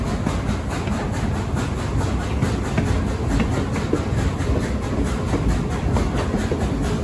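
The Dollywood Express steam train, engine number 70, rolls along its tracks with a steady, loud rumble and a continuous clickety-clack of wheels over rail joints, heard from on board without any talk.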